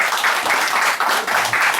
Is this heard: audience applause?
yes